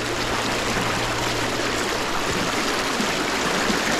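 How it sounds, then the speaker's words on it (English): Fast-moving stream current on a Japanese trout-fishing outing rushes and gurgles steadily up close, a loud, unbroken watery hiss with no talking over it. "To get through this fast current water so I don't have to get stuck in these branches in front of me."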